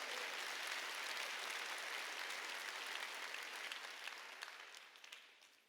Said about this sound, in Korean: 우리 할 수 있다고 생각하는 사람만 박수 치라 얘기해